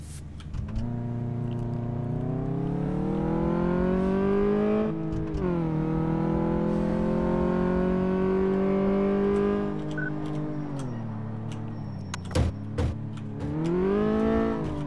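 Simulated car engine from Car Mechanic Simulator 2014 on a test drive, a steady loud hum with rising and falling revs, a brief dip near the middle and a few sharp clunks toward the end, no talking.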